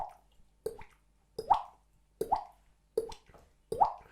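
A beatboxer imitates a water drop with the mouth, producing a steady run of hollow, liquid plops, close and clear, each pair of pops repeating in a regular rhythm against silence.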